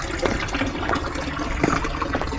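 Small streams of water trickling through a villa garden in Nice, a steady close running-water wash with no break across the short stretch.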